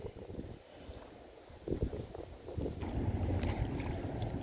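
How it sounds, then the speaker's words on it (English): Strong, gusty wind blows across an open pond where a canoe is out on the water, roaring steadily into the microphone with low rumbling buffets that build louder toward the end. "This wind is brutal."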